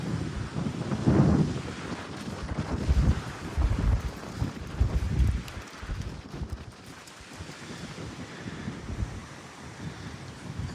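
Wind gusts buffet the microphone outdoors on a walk, a loud broadband rumble that swells early and then settles into a steady, slightly lower roar with no talking.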